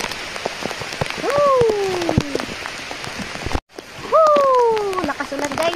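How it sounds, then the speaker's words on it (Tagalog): Heavy, steady rain pours down in the Western Visayas countryside during a fishing and crabbing trip, a loud constant hiss and spatter with voices and whistle-like sounds rising over it. "Sobrang ulan."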